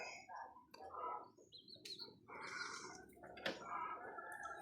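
Chicks peeping on a chicken farm near the breeder birds, soft high chirps and tweets scattered irregularly at a low level over quiet background.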